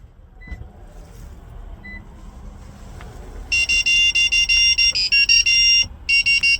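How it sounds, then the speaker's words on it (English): A series of loud, steady electronic beeps from a 2016-2018 Toyota Tacoma confirming key fob programming, in quick succession, with a short gap before a final pair, over a faint background. "wait for a few seconds until you hear the beeping sound indicating programming is successful"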